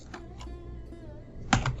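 Keys tapping on a computer keyboard as a web address is typed into a browser, a quick run of soft clicks ending in a louder cluster of keystrokes, close and alone with no talk.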